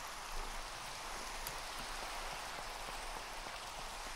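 Steady rain falling in Minecraft, a continuous even hiss of drops with no breaks, moderately quiet and alone, with no voices over it.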